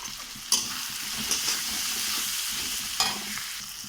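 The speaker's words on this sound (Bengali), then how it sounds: "আর আদা কুচোনা দিয়ে ভালো করে মশলাটাকে আমি কষিয়ে নেব" Spice paste with chopped ginger and tomato, salt and turmeric stir-fried in a pan for a kham aloo dish, giving a steady close sizzle broken by a few sharp scraping clinks of the spatula.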